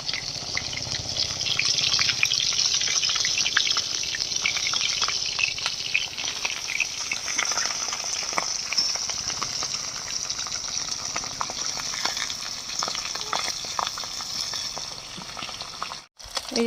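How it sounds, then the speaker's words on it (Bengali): Fish fry in oil in a pan set over a wood fire in a rural outdoor kitchen, giving a steady, close hiss and crackle throughout that cuts out briefly near the end. "মাছগুলো ভাজা হচ্ছে, কাঠের জালে ভাজা হচ্ছে"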